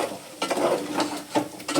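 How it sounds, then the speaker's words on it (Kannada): Food frying in a pan over a low flame, a soft continuous sizzle broken by a few stirring scrapes, close by with no talk. "ಒಂಚೂರು ಲೋ ಫ್ಲೇಮಲ್ಲಿ ಇಟ್ಕೊಂಡು ಫ್ರೈ ಮಾಡ್ಕೊಳ್ಳಿ"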